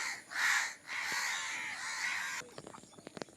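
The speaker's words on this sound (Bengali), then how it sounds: "কাকেদের কাকা আওয়াজ" A crow gives several loud, harsh caws close by, followed by faint scattered tapping and rustling.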